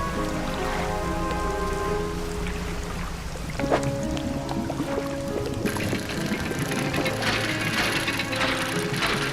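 Steady rain pattering down in the fishing game Dredge, a continuous soft wash of drops over a layer of game music, with no one talking.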